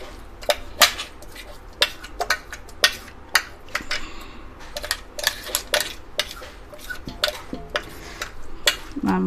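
Ground marinade paste for home-made restaurant-style barbecue scraped from a container into a large bowl: repeated sharp metallic clinks and scrapes of spoon against vessel, irregular and close.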